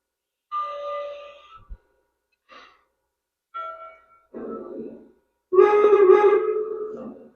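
Bell on an O-gauge model train engine, sounding as several separate, clear ringing tones with short silent gaps between them, the last one louder and longer.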